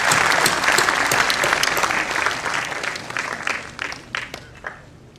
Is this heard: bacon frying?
no